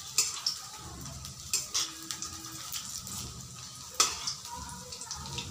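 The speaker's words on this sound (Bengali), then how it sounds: "এভাবে করে উল্টে পাল্টে ভেজে নিতে হবে" Cauliflower pakora frying in oil over low heat while being turned makes a faint, soft sizzle, broken by a few sharp clinks of a utensil against the pan, with no talk.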